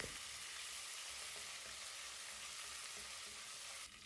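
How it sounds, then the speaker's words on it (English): Cumin, ginger and garlic fry in hot oil, giving a steady, even sizzle that holds at the same level throughout with no voices, easing off slightly at the very end. "Heat 2 tablespoons oil. Add 1 teaspoon Zeera, 1 teaspoon ginger, half teaspoon garlic."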